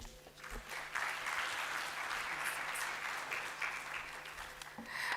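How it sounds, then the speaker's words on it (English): Audience at an annual summit giving a round of applause, steady dense clapping rising after a second and holding fairly evenly, slightly distant in a large hall. "I think Alban deserves a better round of applause."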